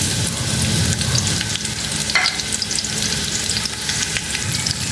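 Two sliced medium onions fry in hot oil in a pot with curry leaves, cinnamon and cloves for mutton pulao, giving a steady loud sizzle with stirring scrapes and a brief clink midway.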